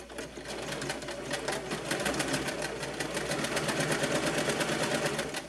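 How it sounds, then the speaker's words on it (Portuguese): A sewing machine runs steadily at speed while sewing a dress with three-quarter sleeves and ruffles, giving a rapid, even mechanical clatter close to the mic with no voices over it. "Então eu vou costurar aqui e a gente já vai passar pra colocação da manga"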